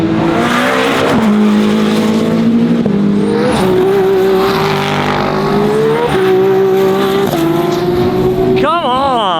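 Porsche race car roaring past on a track in a battle with a BMW, loud sustained engine whine rising and falling through gear shifts, with a sharp pitch sweep near the end as it passes close.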